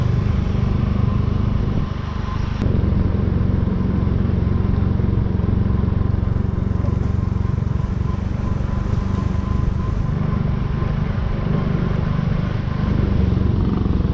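A motorcycle running on a punctured, flat tire hums and drones steadily for the whole stretch, its engine note close and continuous with a single sharp click near the start.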